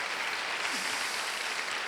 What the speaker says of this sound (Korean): 다시 한번 우리 박수로.